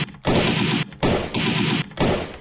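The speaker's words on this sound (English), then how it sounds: "He's got an assault rifle" Assault rifle gunfire in a video game, three loud, close sustained bursts of rapid automatic fire separated by brief pauses.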